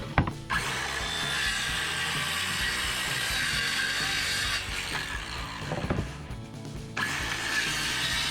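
Power drill whirring steadily as it drives screws into scrap wood for a pig feeder frame, fairly quiet and continuous, with brief pauses and a knock or two between screws, no talking.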